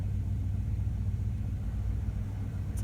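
An Oldsmobile Cutlass engine with a Rochester 2GC two-barrel carburetor idles high at about 850 RPM, slightly rough with a possible vacuum leak. It makes a steady, close, low rumble with no talking.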